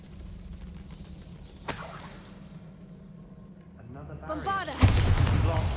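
A Bombarda blasting spell going off in Hogwarts Legacy, with a sharp crack followed by a loud crumbling, debris-scattering burst that swells and lingers near the end, over quiet game ambience.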